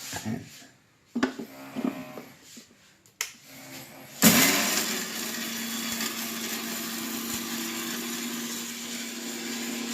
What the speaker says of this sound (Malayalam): മല്ലി മുളക് പെരുംജീരകം ഇത്രയും നമ്മൾ വറുത്ത് വെച്ചിരുന്ന എല്ലാം കൂടെ പൊടിച്ചെടുക്കാം